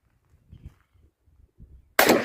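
A single 5.56mm .223 rifle shot cracks out loud and close, preceded by faint low handling rustles and quiet movement, and then a short, noisy decay.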